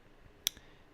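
Single crisp computer mouse click, made while holding the Option key, followed by a softer second tick in a quiet room.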